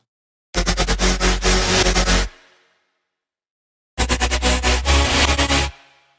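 Two bursts of crackling static texture from a remix layer, each lasting under two seconds and pulsing rhythmically, with a reverb tail fading after each burst and silence between them.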